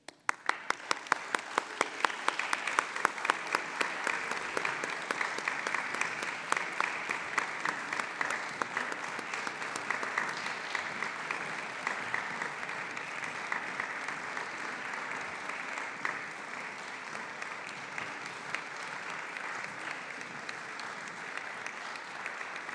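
Sustained applause from the audience at a Master in Insurance & Risk Management graduation ceremony, welcoming the graduating class; dense, steady clapping from a large crowd that holds for over twenty seconds, slightly fading toward the end.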